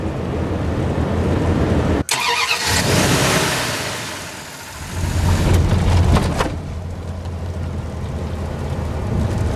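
Car on a long road trip toward a Cree village on the James Bay coast, a steady loud engine drone and road rumble from inside the cabin, briefly dipping and then surging again.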